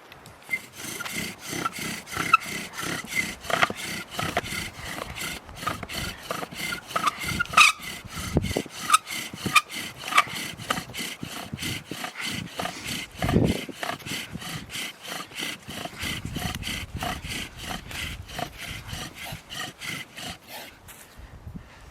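A wooden bow drill spindle is sawed back and forth in a fire board, producing continuous rhythmic rubbing and squeaking strokes, close and steady for over twenty seconds.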